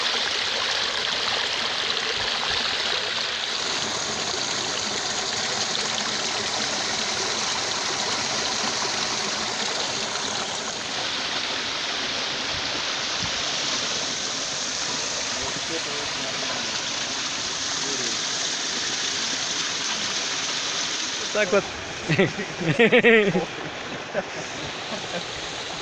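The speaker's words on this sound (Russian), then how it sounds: "Вот так вот начинается самый большой водопад на Чансу" Uchan-Su waterfall in Crimea, heard from the top where it begins: a steady, broad rush of falling water fills the whole scene, with brief talk and a few handling knocks near the end.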